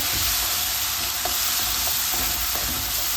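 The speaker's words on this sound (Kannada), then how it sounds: "ಶುಂಠಿ, ಬೆಳ್ಳುಳ್ಳಿ, ಈರುಳ್ಳಿ, ಹಸಿಮೆಣಸಿನ್ಕಾಯಿ ಪೇಸ್ಟ್ ಮಾಡ್ಕೊಂಡಿದ್ವಲ್ಲ, ಅದನ್ನೆಲ್ಲ ಇದಕ್ಕೆ ಹಾಕ್ತೀವಿ. ಮಿಕ್ಸ್ ಮಾಡ್ಕೊಳ್ಳೋಣ." Ginger, garlic, onion and green chilli paste fries in hot oil for chenna aloo masala, a loud continuous sizzle with a few soft scrapes of stirring.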